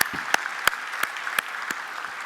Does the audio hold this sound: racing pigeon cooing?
no